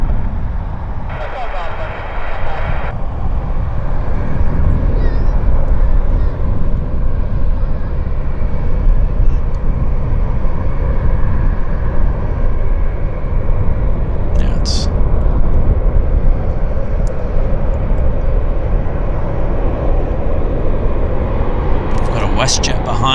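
At Vancouver Airport an aircraft taxis on the parallel taxiway beside the active runway, producing a loud, steady engine rumble and roar throughout while a person talks over it nearby.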